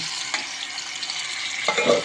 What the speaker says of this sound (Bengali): এই যে এখন ভাজা শুরু করব এই যে দেখুন একবারেই সব ঢেলে দিচ্ছি